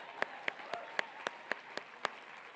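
At a gun responsibility luncheon, a few people clap in slow, sparse single claps, about eight crisp hits spaced evenly over a faint room background, with no voices.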